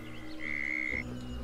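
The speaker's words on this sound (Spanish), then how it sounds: "Hay ranas aquí." Frogs croak in Lego Harry Potter, a steady game ambience with a long sustained croak near the middle and low background hum, no talking.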